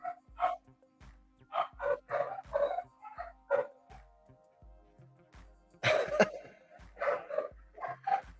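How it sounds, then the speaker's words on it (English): Loud, sharp pit bull barks come in irregular bursts, some single and some in quick pairs, close to the microphone with short pauses between them. "the loudest barker I got out there when he wants to bark loud is my pit bull"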